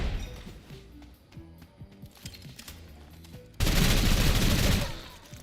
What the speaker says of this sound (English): Shoot you with my energy gun.